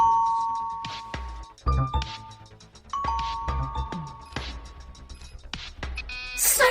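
A rapid medley of many different doorbells, ding-dong chimes and electronic jingles following one another in quick succession, bright and fairly loud with no speech.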